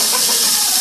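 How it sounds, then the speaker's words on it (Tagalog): A pressure cooker vents steam in a loud, steady, close hiss that fills the whole moment without pause, with no voices over it. "singawin niya itong pressure cooker."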